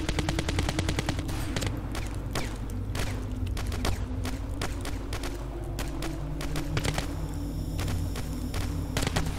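Fully automatic pistol fire in the Ravenfield video game comes as dense, rapid bursts of shots, loud and continuous over a constant mechanical drone, with no talk.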